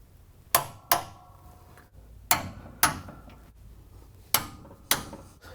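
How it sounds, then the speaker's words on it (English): Torque wrench tightening the lower A-arm bolts on a 1966 Corvette's front suspension: sharp metallic clicks arrive in spaced pairs, about six distinct snaps, close and clear over a quiet shop background. "we're going to now go ahead and torque the lower A-arm bolts to the factory spec"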